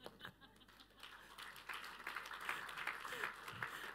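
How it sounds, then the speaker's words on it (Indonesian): A church congregation applauds, a brisk patter of many hands clapping at a moderate distance, rising and holding steady with voices mixed in underneath. "Saya tuh tahu saudara tepuk tangan"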